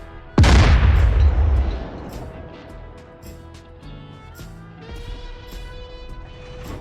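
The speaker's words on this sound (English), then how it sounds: "Let's give him one of the high explosive rounds." In the DCS combat flight simulator, a tank's main gun fires a high explosive round: one loud, deep boom that rumbles and fades over about two seconds, then a low mechanical hum continues.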